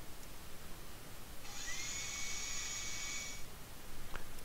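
Dental-drill-style drill sound effect, a steady high-pitched whine lasting about two seconds over a faint hiss, followed by a short click near the end, with no talk.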